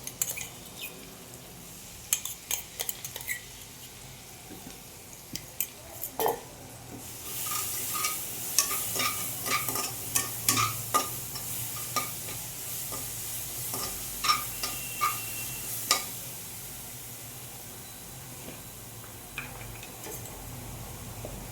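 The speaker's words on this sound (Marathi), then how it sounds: "आता इथं आलं, लसूण आणि हिरवी मिरचीचा ठेचा घालतोय" Crushed ginger, garlic and green chili paste fries in a pan and is stirred, with repeated light clinks and scrapes of a spoon against the metal. The sizzle swells noticeably partway through and keeps going under the steady, irregular stirring clicks.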